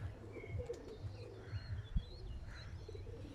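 Pigeons gathered on a rooftop give soft cooing and a few faint chirps over outdoor background noise, with the calls coming in short, low, irregular bursts.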